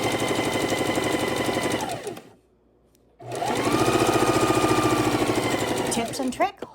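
A sewing machine stitches a cake and jelly roll quilt in a fast, even mechanical rattle, stops for about a second, then runs again at full speed before a few clicks at the end.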